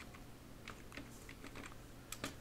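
Computer keyboard keys tapped in a quick, irregular burst of light clicks, faint and close, typing into a Windows search bar, no one speaking.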